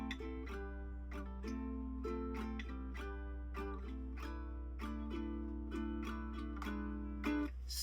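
Ukulele strummed in a steady, bouncy rhythm of chords, fairly quiet, with a low hum underneath and no voices.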